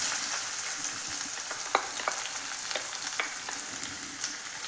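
Crushed ginger and finely chopped onion sauté with mustard seeds in a pan, a soft continuous sizzle broken by scattered ticks and scrapes of stirring, fairly quiet and close.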